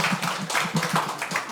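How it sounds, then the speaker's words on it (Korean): An audience claps steadily at a residents' briefing for a Gonghang-dong Moa Town zone 4 redevelopment project, producing dense, continuous applause at moderate volume across the whole moment. "자, 박수 한번 주세요"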